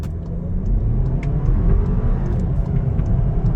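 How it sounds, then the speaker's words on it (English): A VW Golf Alltrack pulls away at wide open throttle from a standstill up to 40, a loud, low engine drone and road rumble from inside the cabin, steady throughout with no voices. "a wide open acceleration to full ABS panic braking"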